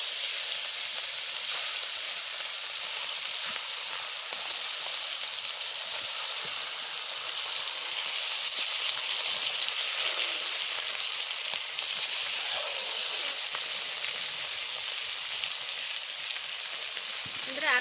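Pomfret fish, coated in spices, sizzles in hot oil with a steady, loud, close hiss and crackle that lasts throughout, with a voice now and then underneath.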